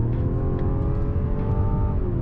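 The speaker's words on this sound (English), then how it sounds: "So I'm gonna pass this car." Mazda CX-90, a 2024 model with either a plug-in hybrid or inline-six powertrain, accelerating hard to overtake another car, its engine whirring and rising steadily in pitch as it gains speed, heard from inside the cabin with no talking.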